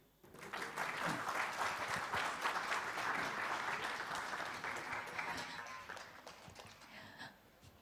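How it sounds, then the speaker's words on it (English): Audience applause after a keynote speech at a Southeast Asian business events forum in Yogyakarta, a dense sustained clapping from a large crowd in a hall that swells quickly, holds for several seconds and then tapers off. "let's give a big round of applause for Mr. Edward Liu"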